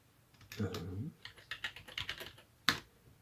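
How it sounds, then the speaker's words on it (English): Keys on a computer keyboard tapped in a short burst of typing while a password is entered during an Ubuntu setup on a Raspberry Pi, close and fairly quiet, ending with one sharper key press. "just type in your current password"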